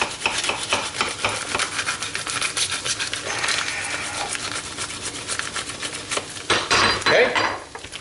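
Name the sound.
knife cutting bacon in half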